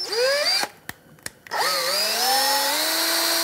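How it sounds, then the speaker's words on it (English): Power drill boring into a stripped bolt head on a Harley-Davidson primary cover, a loud steady whine that rises in pitch, breaks off twice in short stops, then runs continuously to the end. "I'm gonna go ahead and start drilling into one of our affected bolts here."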